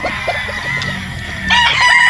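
A quality gamefowl rooster on a game farm crows loudly and close, a single drawn-out cock-a-doodle-doo rising in the second half over a brief stretch of clucking.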